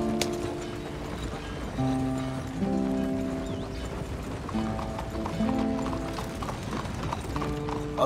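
Horse hooves clip-clop steadily as a horse-drawn cart rolls along in the open-world western game Red Dead Redemption 2, the rhythmic hoofbeats running throughout over a bed of sustained music tones.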